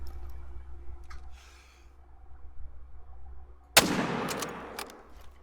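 A single sharp rifle shot rings out in the Call of the Wild hunting game, a loud sudden crack that decays into a rolling echo over a quiet outdoor ambience.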